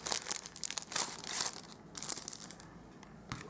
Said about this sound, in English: now I'm just going to grab my Pinewood embossing folder